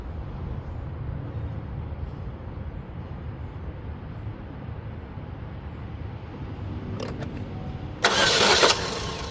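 A 2013 Chevy Cruze with a 1.8 L engine and a misfire cranks steadily in a low, continuous rumble, then a short louder burst of noise near the end.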